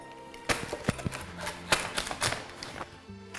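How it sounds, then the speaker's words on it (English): A homemade pan pizza with melted cheese is cut in its pan, giving a quick run of sharp, irregular taps and clicks close by, with no talking. "Now we're going to cut the pizza."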